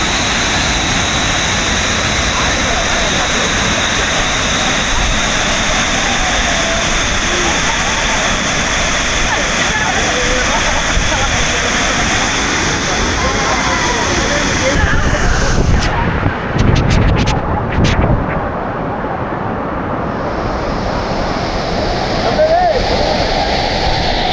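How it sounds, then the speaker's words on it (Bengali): A large waterfall in the Mahendragiri hills, with people bathing at its base, gives a loud continuous roar of falling water that fills the whole scene. Wind gusts buffet the microphone partway through. "এইখানে অনেকে স্নান করছেন আর এই ওয়াটারফলের বিশাল জলরাশি"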